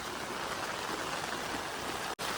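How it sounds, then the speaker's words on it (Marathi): A stream in the Konkan countryside runs fast after an hour of heavy rain, making a dense, steady rushing wash throughout with no voices. "पाणी जोरात आलाय"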